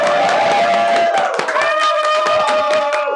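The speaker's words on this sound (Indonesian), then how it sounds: "Tepuk tangan dong" Loud live audience at a podcast anniversary taping, clapping and cheering with voices ringing out close and bright over the clapping.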